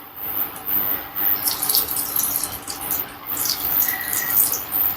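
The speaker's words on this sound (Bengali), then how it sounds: "তেল গরম হয়ে গেছে। ফ্লেমটাকে আমি এই সময় মিডিয়ামে রেখেছি। এবার কোপ্তাগুলোকে ভেজে নেব।" Rohu fish koftas fry in hot mustard oil over a medium flame, producing a bright, continuous sizzle that swells and fades slightly as it goes on.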